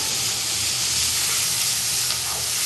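Spice masala fries loudly in a pan for a Bengali egg curry, a dense, continuous sizzle close up with no voices.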